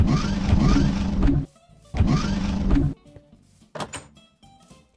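Two loud mechanical bursts of a garage door from a Minecraft 1.12.2 decoration mod, each lasting over a second, followed by quieter clicks and a short rattling sound near the end.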